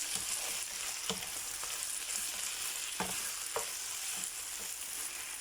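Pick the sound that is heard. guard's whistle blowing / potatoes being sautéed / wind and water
potatoes being sautéed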